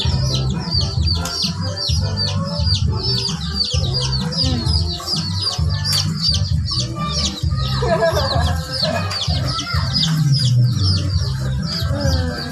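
Chicks peep in constant high chirps close by, over loud clucking hens, with no talk.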